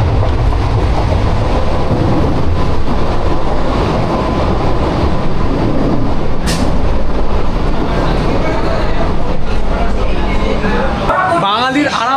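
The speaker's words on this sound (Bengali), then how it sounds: "তো আমাদের ট্রেন দুর্দান্ত গতিতে ছুটছে" AC local train running fast between Sealdah and Ranaghat, a steady loud rumble and rattle of the carriages throughout, with voices faintly in the background.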